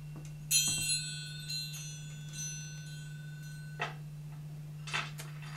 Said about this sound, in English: Now, next, we ring the bells.